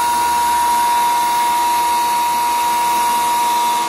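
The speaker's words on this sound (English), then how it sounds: "we'd like to point out why we're running the machine" An unused Rockford 24-inch hydraulic shaper runs with a loud steady mechanical whine and hum, a constant tone that holds without change from start to finish.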